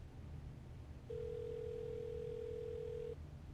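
A single telephone ringing tone in the video game Law & Order Legacies, one steady electronic tone lasting about two seconds over a low background hum.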